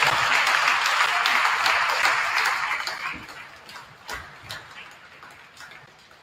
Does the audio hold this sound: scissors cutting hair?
no